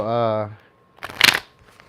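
Tarot cards are shuffled briefly in a quick burst of papery riffling, close by, right after a sustained voiced sound.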